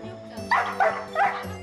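A Pungsan dog, a heavy animal over 20 kg, gives three quick, fairly close barks in a row indoors at home, with a soft whine before them.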